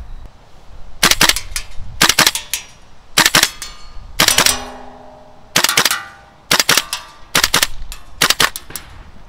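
A GHK M4A1 gas blowback airsoft rifle firing BBs, with loud sharp cracks in quick double and triple bursts separated by short pauses, close by and without talk.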